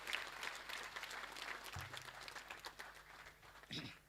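Audience applause for a retiring teacher at a girls' college speech and prize-giving day: steady, dense clapping throughout, moderately distant, with a low hum underneath and a brief voice near the end.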